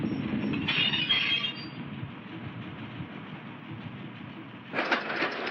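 Key System train cars, former New York cars, rolling along the old shop lead in West Oakland on an excursion run, a steady broadband rumble of wheels on rail throughout with brief brighter squeals near the start and end.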